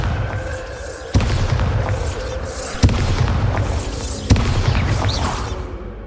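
Three sharp explosive booms from the Bombarda spell in the video game Hogwarts Legacy, spaced a second or more apart over a rumbling game ambience, each one loud and sudden.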